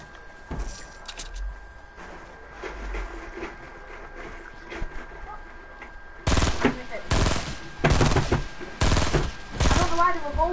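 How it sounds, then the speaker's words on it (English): Fortnite gunfire: dense bursts of rapid shots erupt loudly through the second half, after a quieter stretch of low game ambience and scattered faint pops. "Yeah, I can already hear shooting."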